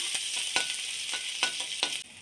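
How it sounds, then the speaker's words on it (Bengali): Ginger paste frying lightly in a pan makes a quiet, even sizzle, punctuated by several distinct scraping stirs of a utensil, and it drops off near the end. "আগে থেকে এক চামচ মতো আদা বেটে রেখেছিলাম ওটা দিয়ে দেব দিয়ে হালকা ভেজে নেব"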